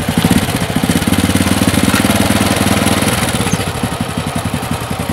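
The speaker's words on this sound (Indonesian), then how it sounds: "agak lumayan halus nih motor" A motorcycle on a standard carburettor idles close by, a steady, even chugging pulse that runs throughout with a smooth, regular beat.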